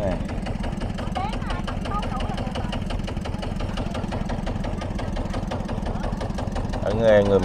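A sand boat's engine chugs steadily on a river near a riverside café in Long Xuyên, Vietnam, a loud, continuous low drone with rapid knocking pulses that swell slightly at the end.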